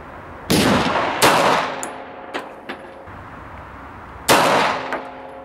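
Several loud, sharp shots from an old World War One or inter-war era European pistol, three main blasts with ringing echoes and a few fainter metallic clinks between them, heard alone at close range.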